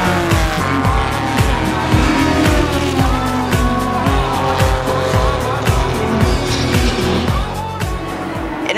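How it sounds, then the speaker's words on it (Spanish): Race cars, from GT models to prototypes, lapping the Circuito de Navarra in a 12-hour endurance race, with loud, continuous engine roar, shifting revs and tire squeal throughout, close to the track. "Aquí, en Los Arcos, tendremos una carrera de 12 horas de resistencia."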